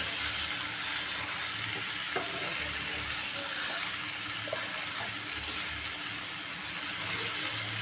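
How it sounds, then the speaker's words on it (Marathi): Ground peanut and garlic paste with spices sizzles steadily in a pan for an onion-tomato chutney, a continuous hissing fry with occasional faint stirring scrapes and knocks underneath. "आता आपण छान असं परतून घ्यायचं हे सगळं परतून घ्यायचं"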